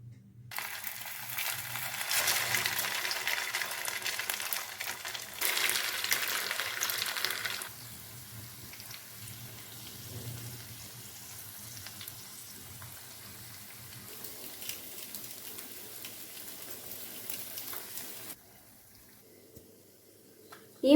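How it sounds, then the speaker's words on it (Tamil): Evening snacks frying in hot oil give a close, steady crackling sizzle, louder at first and then settling to a softer bubbling hiss before fading out near the end. "வெளியில் எடுத்து எண்ணெயில் போட்டு ஃப்ரை பண்ணி எடுத்துக்கலாங்க"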